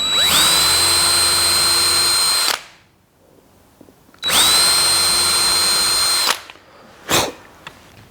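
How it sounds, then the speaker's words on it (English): A power drill pre-drills holes into a wooden bathroom vanity frame in two loud, steady whirring bursts of a few seconds each with a pause between. A brief final spin follows. "And then we'll pre-drill, making sure not to drill all the way through the frame."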